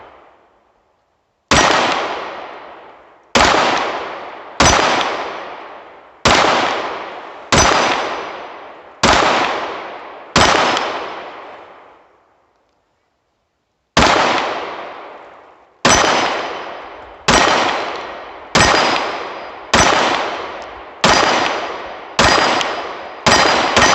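Canik TP9SA pistol shots ringing off a steel ring target outdoors: two bursts of sharp cracks, each followed by a bright metallic clang and decay, about a dozen reports in all with a pause between groups.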